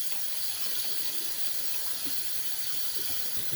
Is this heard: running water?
yes